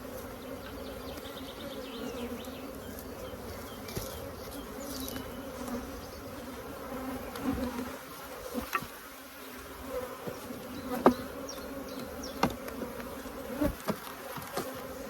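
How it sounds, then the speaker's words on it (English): Steady low buzzing of a big honeybee colony around the hive during an early spring inspection, a dense insect drone with occasional louder bees passing close and a few soft knocks. "Big colony, lots of bees."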